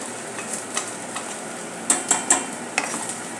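A spoon stirs sabudana khichdi with peanut powder in a pan over low heat, giving soft scraping and several sharp clinks against the metal, spaced irregularly with a faint sizzle underneath.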